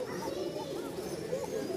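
Urabaji pigeons, a pair of flying pigeons, cooing softly in a few low, rounded calls, faint and close, with someone talking over them.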